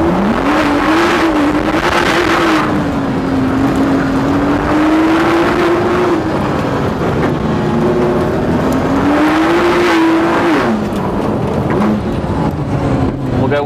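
A Ford GT40 race car accelerates on track during a ride-along: a loud, continuous close-up engine roar that rises and falls in pitch through gear changes, with rushing wind layered over it.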